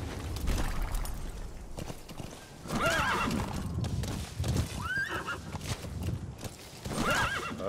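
A horse in Metal Gear Solid V gallops with steady clip-clop hoofbeats and neighs three times in loud, shrill whinnies spread across the run.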